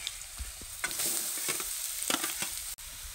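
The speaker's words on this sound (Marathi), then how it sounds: "तेलात आता खीस कसा चांगला भाजलाय बघा" Grated sweet potato frying in oil with chopped green chillies, a close steady sizzle with intermittent scraping stir strokes, no voices.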